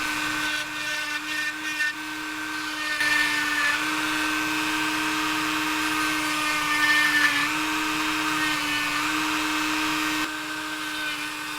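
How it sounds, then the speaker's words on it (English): A small drill whines steadily as it bores powdered tungsten out of a fishing lure bait, a high sustained tone with slight pitch shifts as load changes, running close for several seconds before stopping. "We need to drill out that powder tungsten."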